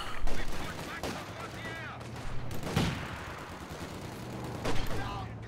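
Rifle grenade fire in a real-time strategy video game: several sharp bursts and a mid-clip blast stand out among scattered gunfire, with a voice talking over the battle.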